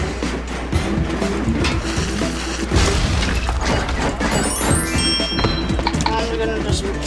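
Trains colliding in the railway simulator game Trainz: a string of loud crashing, smashing and metallic clattering impacts over a few seconds, with rattling debris and a bright screech near the end.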